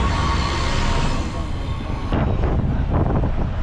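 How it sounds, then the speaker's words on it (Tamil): A city bus engine rumbles and revs up as it pulls away from the Marina Beach stop in Chennai, with broadband road and wind noise throughout and a rising low growl. "மெரினா பீச்சிலேருந்தும் இப்போது பஸ்ஸு ஸ்டார்ட் ஆகிடுச்சு"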